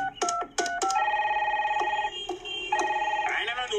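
A telephone ringing, several short bursts followed by longer trilling rings that repeat in a regular pattern, loud and close.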